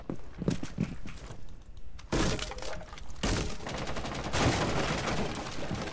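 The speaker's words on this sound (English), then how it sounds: "You missed all your shots, Wyatt." Gunfire in a first-person shooter video game, with bursts of shots and shattering impacts in a dense, loud run, punctuated by sharp onsets and clattering debris throughout.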